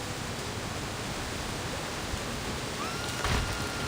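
Heavy storm rain in Reverse: 1999 pours down as a steady, dense hiss that stays even throughout, with a brief louder swell near the end and no voices.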